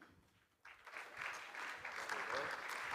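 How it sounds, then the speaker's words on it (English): Audience applause at a conference plenary session, faint at first and then rising into sustained clapping from a crowd. "Yes, louder applause."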